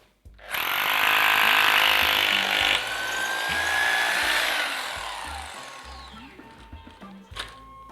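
A hammer drill bores a hole for fixing a wooden batten along a marked line, a loud, harsh whine that runs for about five seconds, then winds down and fades, with no speech.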